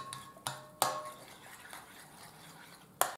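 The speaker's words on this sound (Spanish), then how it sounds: "Y lo mezclamos." A spoon clinks against a bowl a few times while natural yogurt is mixed into sponge cake batter, sharp isolated taps spaced apart over a soft quiet background.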